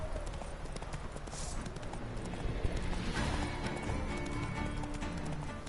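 Horse hooves galloping in The Witcher 3, a steady clip-clop of hoofbeats running continuously at close range over a dense game soundscape, with no talk.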